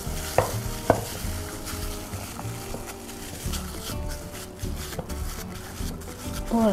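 A mixture with pandan paste is stirred and pressed for cenil, producing soft, continuous scraping and mixing close up, with a couple of light knocks.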